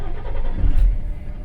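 Truck engine pulling away, a close low rumble that swells briefly midway as it moves off, then settles.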